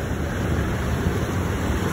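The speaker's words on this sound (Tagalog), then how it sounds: "Lakas ng alon, no?" Strong waves churn in a resort wave pool at Florentinas Infinity Resort in Baloc, Sto. Domingo, Nueva Ecija, giving a steady, close wash of rushing water with no pauses.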